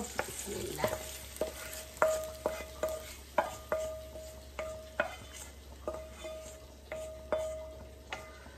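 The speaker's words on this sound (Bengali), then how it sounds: "এখন আমি পেঁয়াজ, রসুন আর পাঁচফোড়ন দিয়ে নিচ্ছি বাগারের জন্য" Onion, garlic and panch phoron tempering frying in a pan: a soft steady sizzle punctuated by regular clinking stirs of a spoon against the pan, roughly one scrape every half second, close and moderately quiet, with no talking.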